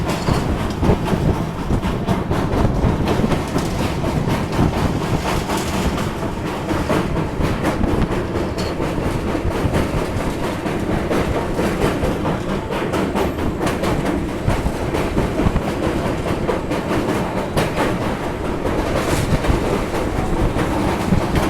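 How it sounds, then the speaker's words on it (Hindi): The Prayagraj Sangam Express crossing the Ramganga river bridge, a loud, continuous rumble of rolling coaches with rhythmic wheel clatter heard from on board, steady and dense throughout. "मुरादाबाद से निकलते ही रामगंगा नदी को ट्रेन क्रॉस करती है"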